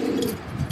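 A single short, soft coo from a grizzle racing homer pigeon, close by and alone.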